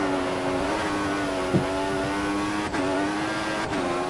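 An F1 2014 video game race car engine at the Australian GP drones at high revs with steady harmonic whine, briefly dipping as gears shift, continuous and close throughout.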